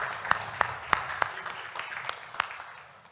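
Sparse, scattered clapping from a small audience at a human-development panel session, a handful of distinct claps spaced irregularly and fading toward the end.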